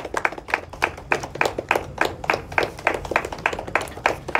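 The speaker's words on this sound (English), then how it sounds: "Welcome him with a round of applause." Audience at a cricket league kit and trophy launch event applauds a player, a close, steady patter of hand claps from a modest crowd, brisk and continuous.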